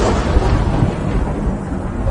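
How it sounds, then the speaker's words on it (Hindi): Thunder sound effect in a village story, a steady deep rumble with a dense low roll that holds loud and even for about two seconds, with no talking. "अचानक से गाँव में बिजली कड़की,"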